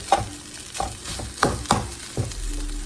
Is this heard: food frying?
yes